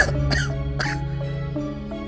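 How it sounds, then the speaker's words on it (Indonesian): A man coughs in a run of several harsh, voiced bursts with short gaps between them, close and fairly loud. It sounds like the coughing of a storyteller voicing a character. "orang itu berbicara di sela-sela batuknya"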